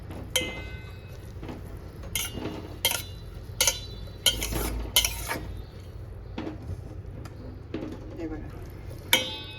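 Wheat porridge with ghee is stirred in a pot, with a series of sharp scraping and clinking strokes of a metal spoon against the vessel, loud and close over a quiet background.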